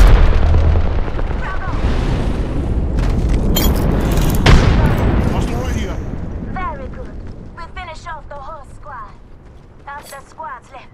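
A frag grenade going off in Apex Legends on PS5: a loud, broad booming blast with rumbling debris and gunfire-like bursts around it, fading into quieter game sounds, while a voice speaks over the action.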